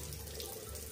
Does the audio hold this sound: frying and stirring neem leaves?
no